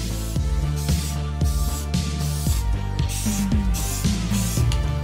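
Short, repeated bursts of spray paint hiss onto an airsoft rifle in light dusting passes, each spurt starting and stopping in an uneven rhythm close to the listener with no talking.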